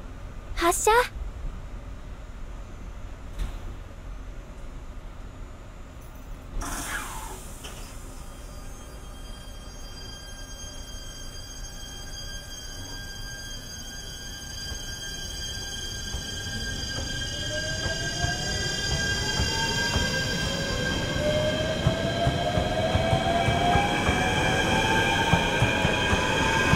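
A JR 8600 series Shiokaze/Ishizuchi limited express starts moving at Kanonji Station on the Yosan Line, its motor whine rising in pitch as the rumble builds and grows louder, with a voice speaking early on.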